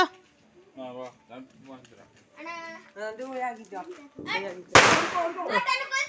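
A single sharp firecracker bang cuts through people talking, loud and close, followed by more chatter, on the eve of the Vishu festival.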